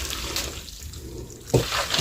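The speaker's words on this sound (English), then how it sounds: "You can add some more pasta water." Starchy pasta water is poured into a pan of bacon sauce in a home kitchen, a soft continuous watery wash that swells into a brief louder splash near the end.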